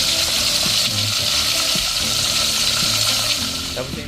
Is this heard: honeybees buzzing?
no